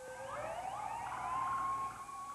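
Wailing emergency sirens of ambulances in New York City in the aftermath of the September 11, 2001 terrorist attack, sweeping pitch rising and falling continuously, loud and steady with no talk.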